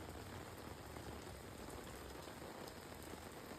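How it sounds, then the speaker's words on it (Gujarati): Heavy, steady monsoon rain pouring down continuously in Navsari during flooding, a dense hiss of drops hitting surfaces with no pauses and no voices. "સવારના 5 વાગ્યાથી ચાલુ છે વરસાદ"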